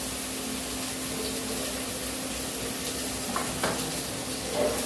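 Chopped tomatoes sautéing in a little oil for a special chicken curry, a steady soft sizzle with occasional scraping stirs and a faint constant hum, heard close with no talk.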